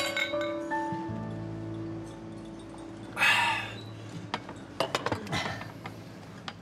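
Glasses clink together in a toast: one bright, ringing clink, then a few lighter, scattered taps of glass against a quiet background without talk.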